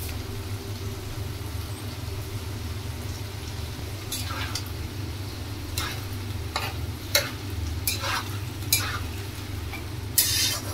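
Food fries steadily in a pan with a little turmeric and chopped coriander leaves, a constant low sizzle broken by several sharp scraping stirs toward the end, close and with no voices.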